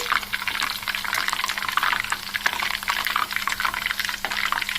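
Aloe vera and herbs bubble and spit in hot hair oil, a dense, continuous crackling sizzle that stays loud and close throughout.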